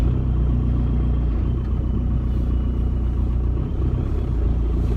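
A 2001 Volkswagen Jetta TDI diesel drives along, its engine giving a steady low rumble and drone heard from inside the car, continuous and unchanging with no speech.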